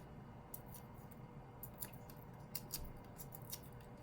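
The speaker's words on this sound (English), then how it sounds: "So I trimmed this piece of cardstock down to 4 inches wide" Scissors trimming a piece of cardstock for a handmade card, a series of quiet crisp snipping cuts in an irregular rhythm, faint and close with no talking.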